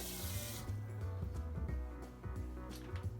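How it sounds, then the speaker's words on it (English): Water runs from a kitchen tap into a container of seasoned eggs being marinated in teriyaki sauce, a steady splashing pour with some clinks and knocks, loud and near. "So I'm gonna put a little bit of water inside here."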